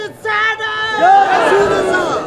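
A large crowd at a religious gathering in Khuzdar, Balochistan, roars a chanted response to the Naara-e-Takbeer slogan, a loud, sustained collective shout of many voices rising and falling together.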